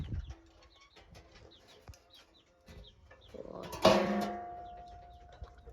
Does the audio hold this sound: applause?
no